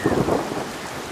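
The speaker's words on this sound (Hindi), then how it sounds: "इतनी तेज बारिश में तुम यहाँ कैसे?" Heavy rain pours down during an animated forest flood, with a rumble of thunder rolling through at first and then fading, leaving a steady dense patter of rain on surfaces, close and without talk.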